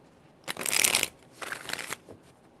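Two quick bursts of tarot cards being shuffled close by, a crisp riffling flutter followed by a shorter second pass.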